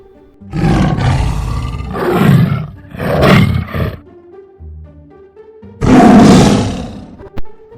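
A lion roars in a story setting, echoing back from a well: three loud roars in quick succession, a quieter gap, then one more full roar and a short trailing burst, with a reverberant, hollow tail.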